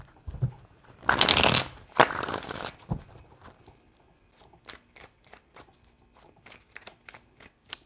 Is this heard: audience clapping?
no